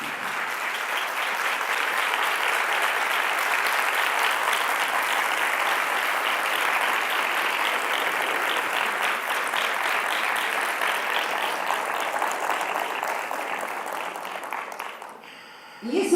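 An audience applauds steadily and fairly loudly for a long stretch at a talk, the clapping dense and even before fading toward the end.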